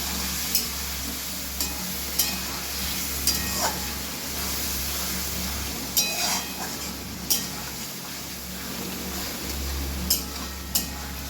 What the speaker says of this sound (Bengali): এবার ভালো করে কষিয়ে নেব কিছুক্ষণ।